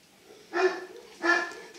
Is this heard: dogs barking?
yes